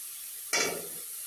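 Mashed coriander leaves fry gently over low heat in a pan, releasing their water; a brief soft sizzle and stir swells once and fades, faint and close.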